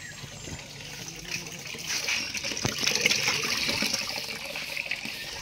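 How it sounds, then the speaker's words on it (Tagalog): Water poured out for pet ducks to drink, a steady splashing, trickling gush at moderate level that grows slightly fuller midway, with no voices. "Lagyan natin sila ng tubig para makainom."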